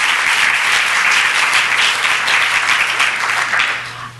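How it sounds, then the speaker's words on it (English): An audience at a United Way women's leadership luncheon gives sustained, loud applause, a dense continuous wash of clapping that fades slightly at the end. "Let's give them another round of applause."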